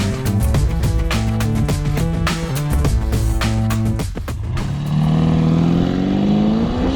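An Audi RSQ8 SUV driving: a loud, close engine note revving through gears with rising and falling pitch, then a steady climbing acceleration roar.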